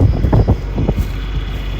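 Wind gusting outdoors on a farm field during spring planting, a loud, steady low roar buffeting the microphone with a faint engine-like hum underneath.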